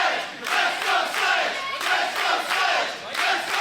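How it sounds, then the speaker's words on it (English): A capacity crowd at Hardywood Park roars and chants in rhythmic, swelling waves during an RVA Pro heavyweight title wrestling match, loud and dense throughout. "the capacity crowd here at Hardywood Park fueling the fight in the champ"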